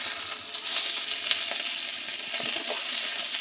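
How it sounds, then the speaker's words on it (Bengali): Fish head sizzling as it fries in a pan, a steady close crackle of hot oil with small pops running throughout, no voices. "অলরেডি মুড়োটা সুন্দরভাবে ভাজা হয়ে গেছে আর একটু ভালো করেই ভাজতে হবে"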